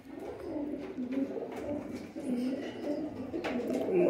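Breeding pigeons in a loft setup coo repeatedly and close by, with soft overlapping throaty coos rising and falling continuously, plus a few faint background chirps.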